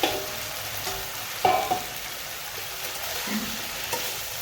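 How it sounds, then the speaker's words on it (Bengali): Drumstick pieces stirred and sautéed in hot oil in a pan, a steady soft sizzle with occasional louder scrapes and stirs, no talking. "ডাঁটাটা এর ভিতরে দিয়ে দেব, দিয়ে ভালো করে এটাকে একটু ঢেকে ঢেকে কষতে হবে"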